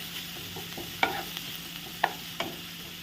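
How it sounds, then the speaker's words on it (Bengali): Chopped onions and green chillies sizzle gently in a pan while a utensil stirs them, with three sharp scraping clinks standing out over the soft, steady frying hiss. "পেঁয়াজ কুচি আর কাঁচা লঙ্কাটাও আমি এখানে দিয়ে দেবো। এবার একটু নাড়াচাড়া করে পেঁয়াজটাকে একটু বাদামি বাদামি"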